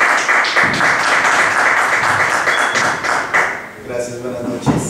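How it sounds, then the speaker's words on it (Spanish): Audience applause for a speaker at a talk on the role of the legal advisor, sustained loud clapping with some thumps, fading near the end as a voice begins speaking. "les pido que le brindemos un fuerte aplauso"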